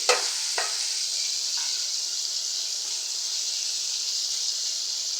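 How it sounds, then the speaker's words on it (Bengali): Puti fish fry in a pan on a stove with a steady, bright sizzle that runs the whole time, plus a few soft clicks near the start. No talking. "আর চুলায় এই পাশে আমি পুঁটি মাছ ভাজাটা বসাই দিলাম"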